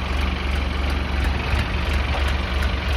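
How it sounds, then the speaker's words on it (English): A Chinese-made tractor engine idles loudly and steadily with a low, rough diesel rumble close by; no start-up is evident. "firing up the Chinesium tractor"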